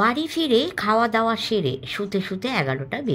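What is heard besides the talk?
No everyday noise stands out behind the speech.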